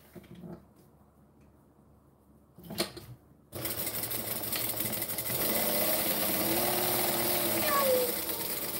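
A sewing machine stitches reptile-print fabric. After a quiet start with a brief clatter, the close, rapid mechanical whir starts up and runs steadily to the end, with some faint background movement.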